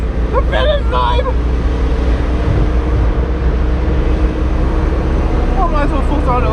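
A car engine held at full throttle on the Nurburgring, a steady loud droning roar heard from inside the cabin, with excited voices speaking and shouting over it at the start and end.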